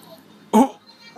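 A child gives a single short, sharp cough close by, standing out against a quiet room.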